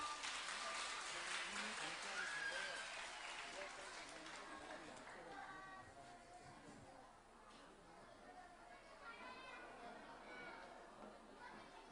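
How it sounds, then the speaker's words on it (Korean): At a church praise festival, an audience gives a children's choir sustained, fairly faint applause, with scattered voices and chatter mixed into the clapping. "큰 박수 부탁드립니다"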